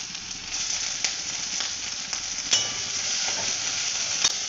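Onions frying in a pan with garlic and ginger paste for a mushroom curry, a steady close sizzle with occasional soft scrapes of stirring and no voices.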